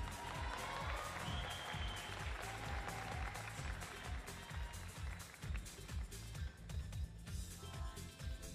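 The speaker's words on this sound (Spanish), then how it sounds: "Un aplauso para Luis." A large audience at the Miss Universe Colombia pageant applauds a judge, a steady dense wash of clapping that holds throughout with a rhythmic thumping undertone.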